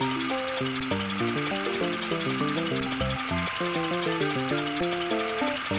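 Engine-like motor drone of a lawnmower car cutting grass in the video game Putt-Putt, with shifting, stepped pitches and a continuous rough grinding noise, steady and loud throughout, no voices.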